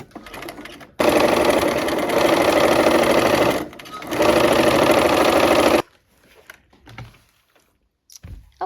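A sewing machine stitches quilt rows together for a nine-patch block, running loud and close in two long steady bursts with a short pause between them, followed by quieter handling noises.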